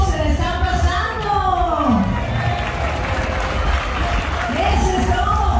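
At a zapateado dance festival at night, a crowd applauds and cheers in a steady, dense wash of clapping and shouts, with a voice talking over it.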